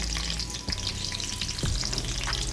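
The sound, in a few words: green chillies and garlic frying in a pan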